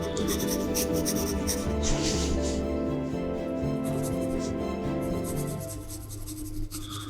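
Scratchy pencil strokes of a 2B lead shade ground texture on drawing paper, a steady soft rasp running for several seconds beneath louder tonal background music.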